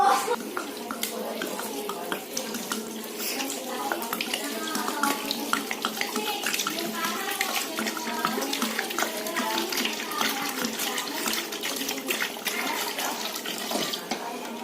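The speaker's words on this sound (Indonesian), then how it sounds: "kita taruh dalam tempat yang besar dan kita akan siap masukkan air matang" Boiled drinking water pours steadily into a large container holding cincau leaves, a loud continuous splashing gush that runs throughout without a break.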